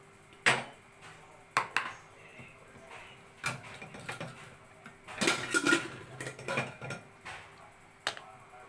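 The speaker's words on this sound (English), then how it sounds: "Let me load the cooker with this sprouted moong." Sprouted moong being loaded into a pressure cooker, with sharp metallic clinks and clatters of the pot and utensils arriving in scattered bursts, a busy cluster in the middle, close and fairly loud.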